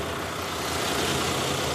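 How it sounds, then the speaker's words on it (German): A brand-new engine in a new Mercedes-Benz Citaro bus idles steadily and loudly nearby, a continuous even rumble with no break and no talking. "Wir gucken uns den Motor auch noch mal an."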